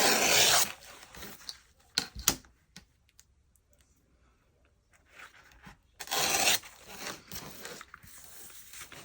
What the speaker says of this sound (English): I need to make sure that I rip it or cut it straight.